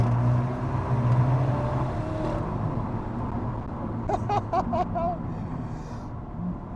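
An Alfa Romeo 4C mid-engine sports car drives along with a steady engine drone and road rumble heard from inside the cabin, and someone speaks briefly over it near the end.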